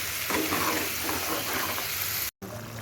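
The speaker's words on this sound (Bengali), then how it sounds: "এবার ফুটছে" Mustard fish curry (parshe fish jhol) bubbling and sizzling in a pan over low heat on a village stove, a dense steady hiss throughout, with a brief cut near the end.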